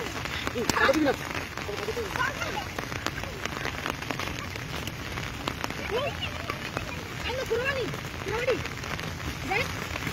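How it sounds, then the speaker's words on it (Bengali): Steady rain hisses across the whole clip, a dense broadband patter, with people talking over it. "তিন 4 দিন যাবত এমন বৃষ্টি, সারাদিনই বৃষ্টি হয়।"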